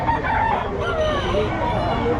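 Roosters crow and chickens cluck at a busy poultry market where birds are sold, several drawn-out crows rising over a steady hubbub of fowl and murmuring voices.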